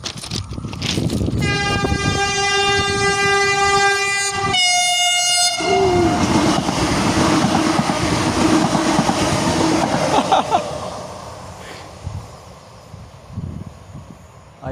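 A train horn blares loud and close near a railroad crossing, a sustained chord-like blast that drops into a lower tone, followed by the rumble and clatter of rail cars passing and gradually fading.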